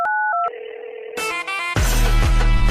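A telephone plays a short run of dialing keypad tones, followed by a steady dial-type tone and then a louder, buzzing ring or connection signal, with no speech.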